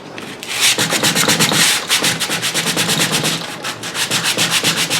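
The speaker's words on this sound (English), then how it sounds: "you put a piece of 80 grit sandpaper on the palm of your hand and hold it like you're holding the guitar" A wooden guitar neck is shaped by hand with 80 grit sandpaper held in the palm, making loud, close, rhythmic rasping strokes back and forth in a steady rapid pattern.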